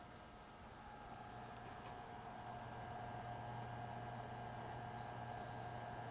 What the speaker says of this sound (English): Only hearing a humming noise from the fan.